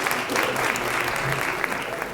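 Audience clapping for event partners at a borough state address, a brief, steady round of applause from a crowd, even and sustained throughout.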